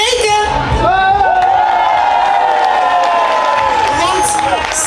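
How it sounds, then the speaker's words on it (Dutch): A carnival crowd at a Boemeldonck hall cheers and applauds for Freke, with whoops, shouting and sustained high-pitched cheering over clapping, loud and close throughout. "een heel groot applaus voor Freke"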